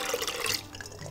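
Tap water runs steadily over quail eggs being rinsed after a twelve-day soak, a close, continuous splashing wash with no voices.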